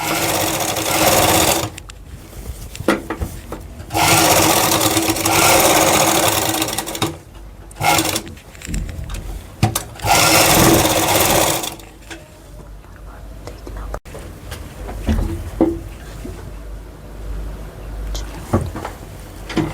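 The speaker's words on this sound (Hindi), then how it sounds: "इसको पक्का करने के लिए हम इसके कॉर्नर्स पर भी एक सिलाई वहाँ लगाएंगे।" A sewing machine stitches the corners of fabric in loud, close whirring bursts, running for a few seconds at a time with short pauses, followed by quieter handling clicks and shuffles.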